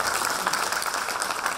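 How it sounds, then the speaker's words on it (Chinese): A seated audience at a Lions Club vehicle donation ceremony breaks into applause, a brief, dense burst of clapping heard close and fairly loud, with no voices over it. "我们鼓掌一下好不好？"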